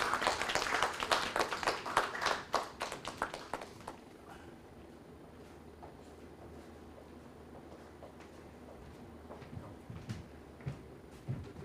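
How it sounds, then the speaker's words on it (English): Audience applause at an inter-bank quiz competition's national finals, honoring the champion teams: dense, loud clapping for about four seconds, then thinning to scattered claps over a quiet hall. "Please give a big round of applause to these two teams."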